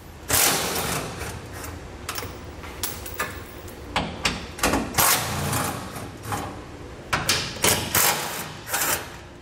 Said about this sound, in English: We're going to use a 12 millimeter socket to remove those.